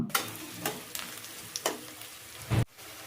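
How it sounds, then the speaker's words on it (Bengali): Two large chopped onions sizzle lightly frying in a hot pan with steady crackling, broken by several sharp scraping stirs of a utensil close by. "এই পেঁয়াজগুলোকে হালকা করে আমি ভেজে নেব"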